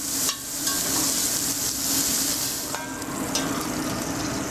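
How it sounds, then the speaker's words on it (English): Salt pork and andouille sausage fry and render in a hot pan with a loud, continuous sizzle, broken by a few sharp clinks and scrapes of stirring and no voices. "we're just gonna render this down, brown up the sausage a little bit"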